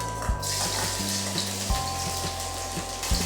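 Garlic hitting a tablespoon of hot oil in a pan, a loud continuous sizzle and crackle that stays dense and close throughout, with no talking.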